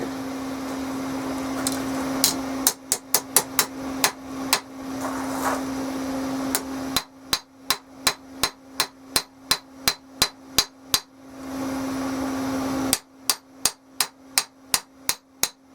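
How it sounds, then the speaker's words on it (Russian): A hammer forges the bevels of a knife blade, striking hot steel in rapid, evenly spaced rounds of sharp, loud metallic blows, with a steady hum running between the bursts. "Все, начинаем проковывать спуски."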